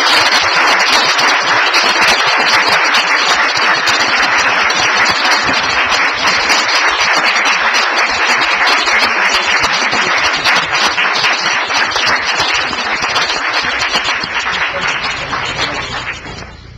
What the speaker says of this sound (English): Round of applause for your fine officer.